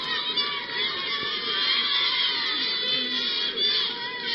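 Children of Moncloa Palace employees cheer and shout after a speech, a dense, continuous crowd roar of high young voices with no break.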